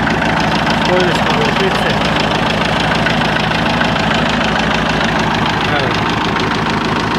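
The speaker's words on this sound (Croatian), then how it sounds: "palili smo traktor" A tractor engine idles after being started, a loud, close, steady chugging rumble with a fast even beat that runs unbroken throughout while someone talks over it.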